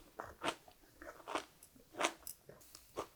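Four or five crisp, crunchy bites into lettuce wrapped around radish kimchi, close up, with quiet chewing between them.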